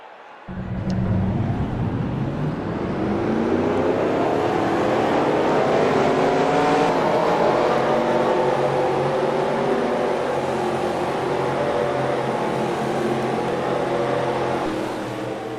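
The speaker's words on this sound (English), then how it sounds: "drivers, start your engines." Race car engines fire up together at the start of a NASCAR race at Talladega, a loud sustained roar that rises right after the start and holds steady with a layered, rumbling drone.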